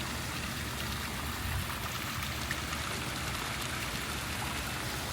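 Large waterfall pouring into a reef aquarium pond, a steady broadband rush of falling water that holds at an even level throughout, with no voices.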